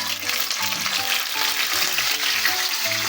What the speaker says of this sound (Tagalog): Piprito natin.